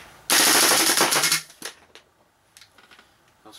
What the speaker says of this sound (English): Alright, we're gonna shoot auto on this one.